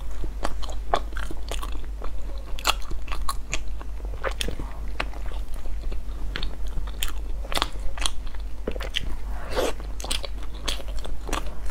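A crunchy snack being bitten and chewed up close, a steady run of loud, crisp crunches and crackles in a close-miked eating setting, with no talking over it.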